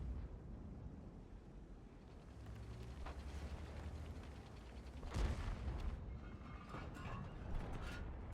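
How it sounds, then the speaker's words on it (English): Tank cannon fire in World of Tanks, with a sharp boom near the middle followed by a few lighter impacts over a steady rumble of engine and battle noise. "Here another tank is crossing, shooting for 382 damage."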